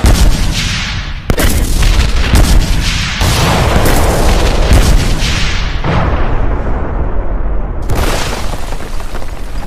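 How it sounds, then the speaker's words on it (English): Bomb explosions in an anime fight: loud, dense booms and blasts follow one another almost continuously, with sharp hits landing every second or two and a final burst near the end, all heavy and close. "Bombs, look out!"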